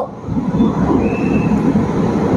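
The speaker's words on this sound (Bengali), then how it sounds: "কবি সুকান্ত থেকে ট্রেন এখন ছেড়ে দিল।" A Kolkata Orange Line metro train rolling out of Kavi Sukanta station, a loud steady rumble of wheels on track with a faint high whine, no voices.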